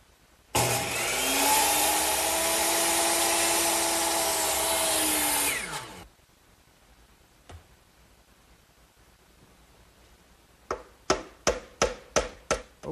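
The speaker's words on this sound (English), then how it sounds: "I'll cut these over here on my miter box, which is already set at a 90-degree angle." A power miter saw cuts wood molding with a loud, steady whine for about five seconds, then spins down, followed by a single knock and a quick run of sharp tapping clicks.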